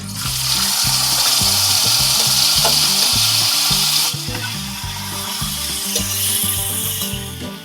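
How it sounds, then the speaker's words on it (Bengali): Fish fries slowly in a hot tawa, a dense crackling hiss running throughout with a repeating low thumping underneath. "এবারে আমাদের মাছগুলো ভাজবো"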